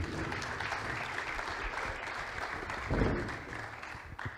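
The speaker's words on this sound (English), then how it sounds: "another round of applause for the team from Bitcoin Beach" Applause from a conference audience greeting a team on stage, a soft, steady wash of clapping heard from a distance that swells briefly toward the end.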